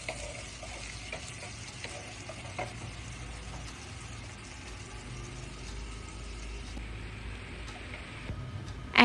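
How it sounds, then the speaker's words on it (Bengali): Chopped onions fry steadily in a pan until golden brown for Bengali egg pulao, giving a continuous, even crackle that stays close and moderately loud throughout, with a brief louder bump at the very end. "সামান্য পরিমাণ পেঁয়াজ কুচি দিয়ে ভালো করে ভেজে নেব।"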